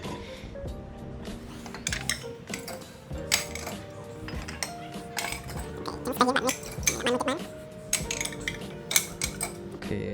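Dishes and plates are placed one at a time into the racks of a Richborn S9 Ultra dishwasher, giving irregular close clinks and clatters of crockery, while a person speaks alongside.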